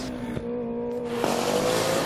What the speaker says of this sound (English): Yeah, the car just fired up.